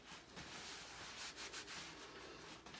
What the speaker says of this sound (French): Maintenant, je prends mon mouchoir jetable. Je nettoie la main.